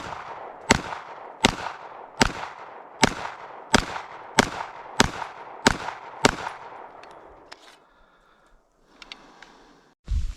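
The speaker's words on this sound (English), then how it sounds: "Now we're going to do the PPQ, 10 rounds, into the center target." A Walther PPQ M2 5-inch pistol fires ten sharp shots in quick, even succession, each a loud crack with a short echoing tail, followed by quieter handling noises.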